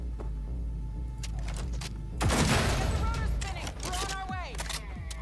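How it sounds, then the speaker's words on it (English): Gunfire in the video game Cyberpunk 2077 as the player shoots down cables, sharp rapid shots mixed with loud action effects and a dense burst of noise, with several whistling, sweeping tones afterward. "Oh, I shoot the cables."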